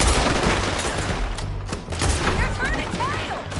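Gunfire from a Red Dead Redemption 2 shootout in a town, a dense, continuous barrage of overlapping shots and booms that stays loud throughout, with voices yelling faintly underneath.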